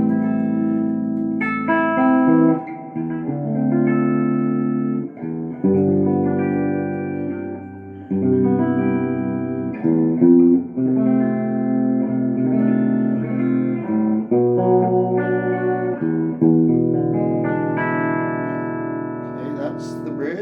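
Clean chords strummed on a Les Paul copy electric guitar through the bridge pickup, a steady run of ringing, sustained chords changing every couple of seconds, loud and close with no talking.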